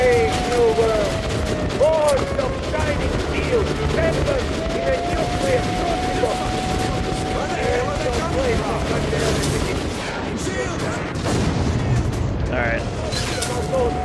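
Sustained gunfire and heavy booms from a minigun in the video game Metro: Last Light, a dense continuous barrage mixed with explosions and battle noise, with talk over it.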